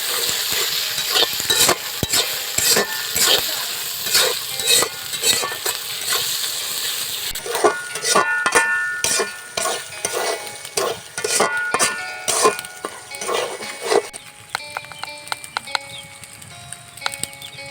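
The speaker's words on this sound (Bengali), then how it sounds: "জিরা বাটা কড়াইতে দিয়ে দিন। 1 মিনিট ভেজে নিন।" Ginger, garlic and cumin pastes frying with bay leaf in a wok, a steady loud sizzle broken by repeated scraping stirs throughout, easing to a quieter crackle toward the end.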